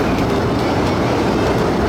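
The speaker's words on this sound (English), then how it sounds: "please remain seated until the train comes to a complete stop" A Disneyland Railroad train rolls along the tracks toward New Orleans Square Station, giving a loud, steady rumble with rhythmic wheel clatter, heard close and alone.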